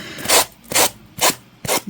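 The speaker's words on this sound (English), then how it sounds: "my husband hates the sound of the sanding though" Wooden tumbling tower blocks being sanded by hand, four close, rhythmic rasping strokes of sandpaper on wood, each a short scratchy burst with brief pauses between.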